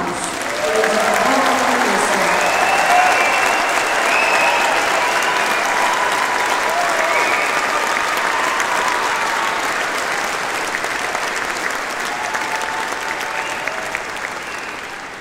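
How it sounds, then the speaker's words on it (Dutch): Applause from a large outdoor audience at the finale of the 2023 Groningen military tattoo, a dense, steady wash of clapping that holds loud for about fifteen seconds and eases slightly toward the end, with faint voices in the crowd. "mag ik een applaus?"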